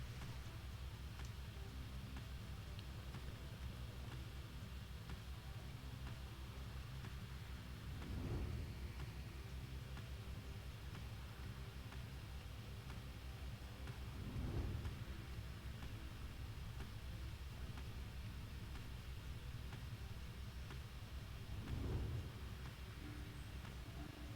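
A raging storm in the video game Pyre: a steady wash of wind and rain noise, broken by three deep, rolling thunder rumbles spaced several seconds apart, with no voices.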